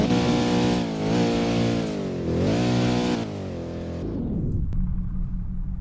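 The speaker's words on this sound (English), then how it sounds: "So let's rev it." The engine of a 2014 Koenigsegg Agera R in the Roblox video game revs loudly. It rises and falls in pitch several times, then drops to a lower, steadier drone.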